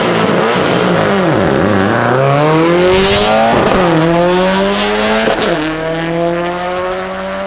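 Thousand-plus horsepower drag racing cars launch with loud, sustained roaring engines that sweep up and down in pitch through repeated gear changes, close and continuous without speech.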